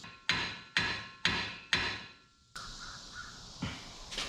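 Four sharp hammer taps in steady rhythm strike a rusted brake caliper bracket on a 2006 Silverado, close and loud, followed by bird caws and one more knock.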